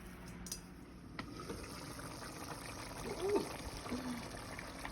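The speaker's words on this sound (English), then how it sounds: "what you want to do is drain out all the water so that you won't have excess moisture" Water draining from thawed frozen spinach while cooking egusi, a faint trickling and dribbling of liquid with soft kitchen background noise and no talk.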